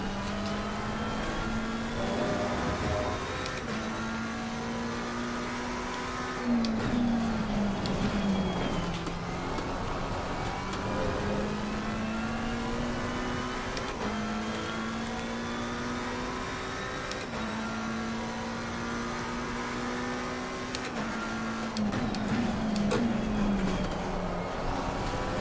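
GT race cars, a Ferrari and a Porsche, lapping in Assetto Corsa Competizione: engines climb through the revs in repeated pitch sweeps, with downshift blips every few seconds, steady and fairly close, with no voices.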